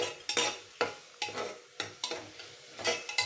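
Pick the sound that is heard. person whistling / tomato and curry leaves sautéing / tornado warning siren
tomato and curry leaves sautéing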